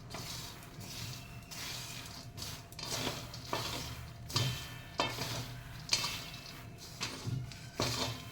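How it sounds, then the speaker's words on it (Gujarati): Puffed jowar dhani chivda with papad roasting slowly over low heat in a pan, a steady dry rustling sizzle broken by repeated scraping stirs and light clinks of the spoon against the metal. "હવે આને આપણે ધીમા ધીમા તાપે બને ને એટલું વધારે શેકાવા દેવાનું, જેટલું શેકાશે ને એટલી ધાની સરસ થશે"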